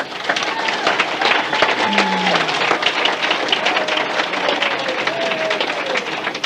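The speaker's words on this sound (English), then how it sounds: "Could we please have one more round of applause for him?" An audience at a speakers' meeting bursts into sustained, dense applause that holds steady throughout, with a few faint tonal sounds in the background.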